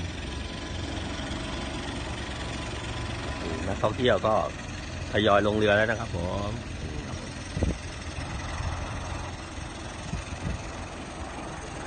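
A tour boat's engine idles on Nong Han lake in Sakon Nakhon, a low, steady rumble running throughout beneath a man's close, prominent narration in Thai.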